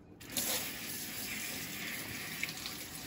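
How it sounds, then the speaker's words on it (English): A kitchen tap runs steadily while fresh Chinese mushrooms are rinsed under it, a continuous close splashing stream that starts abruptly and holds for a few seconds. "you just need to rinse it"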